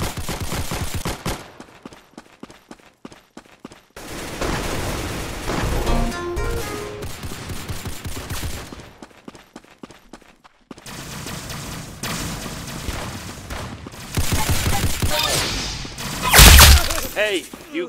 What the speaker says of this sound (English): Nice headshot! Very good shooting!